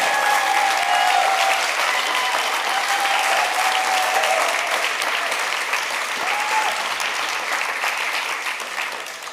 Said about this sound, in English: let's also have a round of applause for the 2 teachers that made this happen